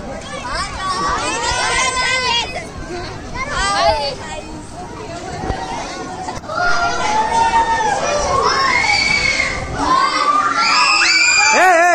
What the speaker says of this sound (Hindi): ए चिल्लाओ मत।